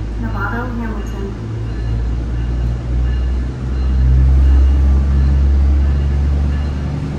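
Steady low rumble and rolling hum inside a SMART Sonoma Marin Area Rapid Transit diesel multiple-unit commuter train heading north from Larkspur, California, loud and continuous, with faint voices in the cabin.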